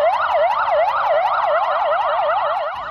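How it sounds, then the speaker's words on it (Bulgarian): Police cars and fire engines outside a fire station in Sofia sound their sirens together during a protest, loud rapid wailing sweeps overlapping, with no voices. "полицаи и пожарникари символично пуснаха сирените на автомобилите си пред пета пожарна в София"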